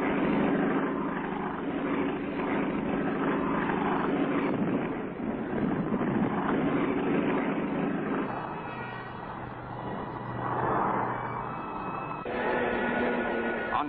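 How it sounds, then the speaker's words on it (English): Engine drone from WWII bombers and fighter aircraft setting out over the Tobruk area in 1941, a steady, dense propeller roar that holds throughout with slight swells and shifts in pitch. "Bombers and fighters set out to clear the sky."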